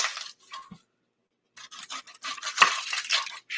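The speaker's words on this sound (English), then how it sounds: "so let's cut up the onion" Knife chopping an onion on a cutting board, with irregular bursts of crisp cutting and knocks, a silent gap, then a faster run of slicing and one sharper thud.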